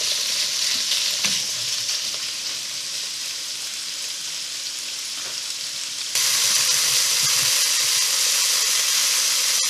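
Pork pieces browning in a frying pan on moderate heat for a stew, giving a steady close sizzle and hiss with a couple of faint knocks, growing noticeably louder partway through.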